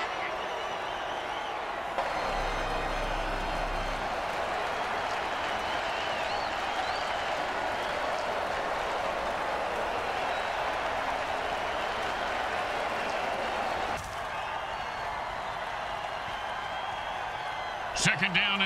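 A stadium crowd roars and applauds steadily throughout a Mutant Football League game between the Grim Bay Attackers and the Scarolina Panzers. The cheering is a dense, continuous wash that swells briefly near the end.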